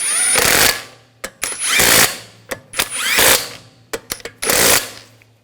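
Power impact tool snugging lug bolts on a 2007-2013 BMW X5 wheel, loud close bursts of rattling hammering in short repeated runs with brief trigger blips between.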